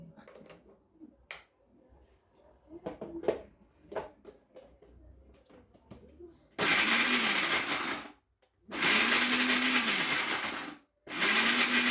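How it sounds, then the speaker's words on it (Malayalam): Kitchen mixer grinder crushing cumin seeds and turmeric, starting after some light handling clatter with a loud whirring roar in three bursts separated by brief pauses; no talking. "ജീരകവും മഞ്ഞപ്പൊടിയൊക്കെ ഇട്ടൊന്ന് ചതച്ചെടുക്കട്ടെ മിക്സി ഓണാക്കട്ടെ"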